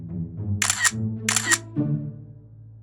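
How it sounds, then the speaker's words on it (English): Camera shutter clicks in a busy cafe, two sharp bright clicks spaced about half a second apart over low background chatter and room murmur. "the sound of a camera click is 찰칵"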